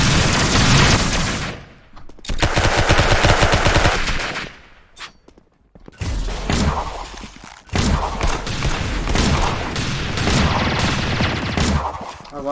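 Rapid automatic gunfire in the Roblox game Arsenal, loud dense bursts of shots that stop briefly, then resume in long sustained volleys with a few sharper booms.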